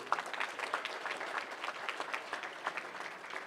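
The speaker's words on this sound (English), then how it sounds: "We have one more round of applause for Zaki and for all of you who have contributed." Faint, steady applause fills a room at an annual memorial foundation benefit dinner, a continuous patter of many hands heard at a distance.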